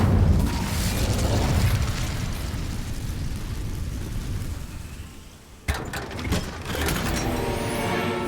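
A fire spell cast in Hogwarts Legacy, heard as a loud, roaring rush of flame that holds for about five seconds, then cuts off into a sharp burst followed by crackling, fainter mechanical rattles.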